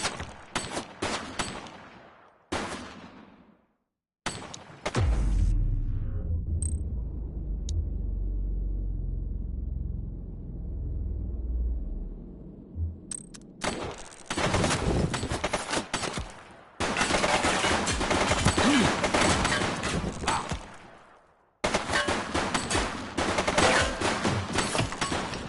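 Gunfire in the video game The Precinct comes in dense, loud bursts of rapid shots, broken up by short gaps and a long stretch of low rumbling, after which heavy bursts return.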